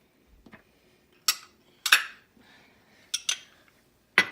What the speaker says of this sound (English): And lastly, I'm going to put in the jalapenos.